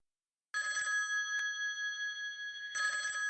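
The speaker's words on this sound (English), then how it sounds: "Okay, I think we're just getting a phone call here." A telephone rings for an incoming call in two bright electronic bursts after a moment of silence, close and clear with a short gap between rings.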